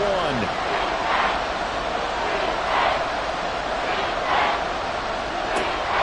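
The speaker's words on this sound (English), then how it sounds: "A big play here as the crowd noise rises." A football stadium crowd roars in repeated swelling waves, a broad, dense wash of cheering that rises and falls every second or so throughout.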